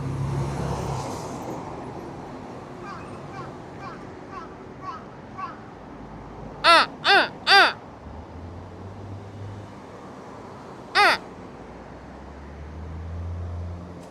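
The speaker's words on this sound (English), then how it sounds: "That's a Mikowa crow." A crow on Sakae street in Nagoya, Japan, gives a few faint distant calls, then three loud harsh caws in quick succession and a single caw a few seconds later, over low city traffic hum.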